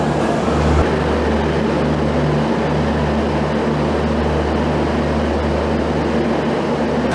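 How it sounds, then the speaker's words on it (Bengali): A train rumbles at Sealdah station's platform twelve, a loud steady low drone with a heavy hum filling the air continuously, no voices over it. "ট্রেনের আওয়াজ গম গম করছে"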